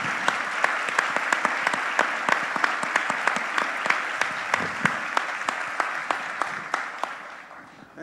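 Audience clapping at a corporate panel on inclusive workplace culture, a steady dense patter with sharp individual claps standing out, loud and close throughout, tapering slightly toward the end.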